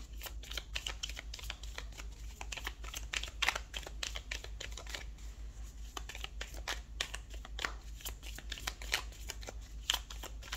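Tarot cards are shuffled and drawn by hand in a constant stream of soft, quick riffling flicks and slaps, close and fairly quiet, with no talking.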